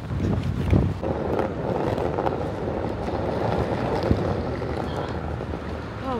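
Strong wind buffets outdoors in London, a continuous loud roar with gusty rumble battering the microphone, no talking heard.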